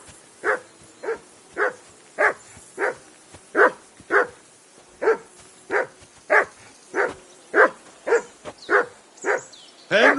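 A dog barks in Kingdom Come: Deliverance 2. The barks are loud and close, about eighteen sharp ones in a steady, even rhythm over ten seconds, with no one talking.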